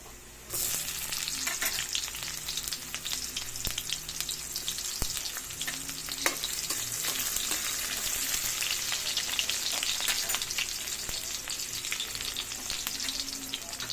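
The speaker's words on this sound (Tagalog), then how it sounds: "Mix na natin guys ang sibuyas." Garlic and onion sautéing in a pan for ginataang tahong, a steady close sizzle that starts abruptly and holds throughout, with occasional faint clicks of stirring and no talk.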